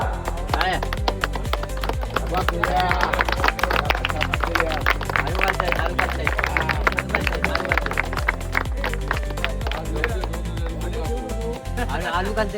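Clapping from a crowd at a cricket match prize ceremony comes as a dense run of sharp, quick claps that continues for several seconds, with a voice speaking alongside.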